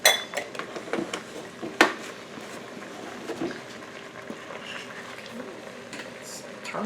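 Milk being mixed into self-rising flour dough in a bowl with a spoon, giving quiet close scrapes and a few sharp clinks against the bowl, over faint kitchen background with no one speaking.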